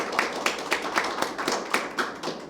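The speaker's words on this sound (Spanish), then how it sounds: "Vamos a recibir al libro y al autor con un fuerte aplauso" Sparse, rhythmic clapping from a small audience welcomes an author at a book launch, a steady patter of individual claps close by with no voices over it.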